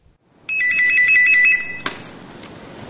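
At a county police 110 emergency call centre in Shandong, a telephone sounds a short electronic ring pattern with two alternating tones for about a second, then a click as the call is picked up, followed by a quiet line.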